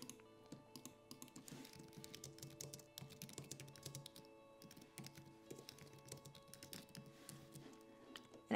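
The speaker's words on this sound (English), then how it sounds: "So let's type that in." Steady typing on a computer keyboard while writing HTML for a beginner coding tutorial, with rapid, irregular key clicks continuing throughout over a faint background hum.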